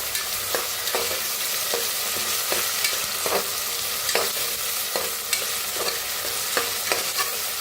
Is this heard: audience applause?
no